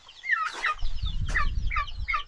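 Hens on a small backyard farm cluck in short, bright bursts, several calls close together over a low rumble of handling noise, with no talk.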